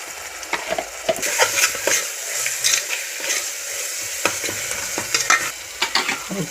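Mutton fries with softened tomato and turmeric in a pan, and a spatula stirs it in frequent scraping strokes over a steady close sizzle, with no voices.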